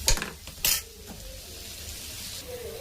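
Paneer toasts in butter in a pan, giving a soft, steady sizzle after a couple of sharp clanks of utensil against the pan at the start.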